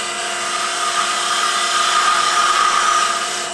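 A wood lathe gouge, flute up, roughs out the end of a spinning wooden wine stopper, giving a loud, steady, even cutting whir that holds for the whole stretch.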